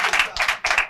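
A studio audience on a live French talk show breaks into brief, loud clapping in three quick bursts, close and energetic.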